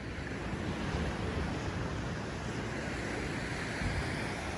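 Steady surf and wind at a beach resort in Puerto Vallarta, a broad continuous wash of breaking waves with wind rumble close to the microphone, no voices.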